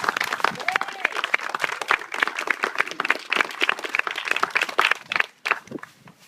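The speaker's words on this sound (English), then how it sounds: "I'd like for all of us to give them a round of applause for their hard work." Audience applause at a house dedication with a crowd clapping steadily and fairly close for several seconds, then thinning out near the end. Faint voices are mixed in.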